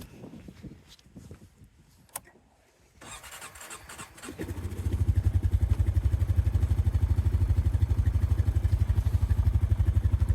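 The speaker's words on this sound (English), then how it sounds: "this was an electric shift Honda four-wheeler" Honda electric-shift four-wheeler heading up into the woods near a maple sugar shack, starting with a few clatters before the engine catches and settles into a loud, steady, close rhythmic chug.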